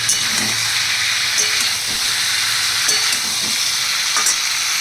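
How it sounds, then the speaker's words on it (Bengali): Potatoes and pointed gourd sizzling and crackling in hot oil while being stirred, with occasional scraping clicks of a utensil against the pan, close and continuous. "এবার আমি এর মধ্যে আবার ওই আলুগুলোকে, পটলগুলোকে দিয়ে আবার কিছুটা নাড়াচাড়া করবো"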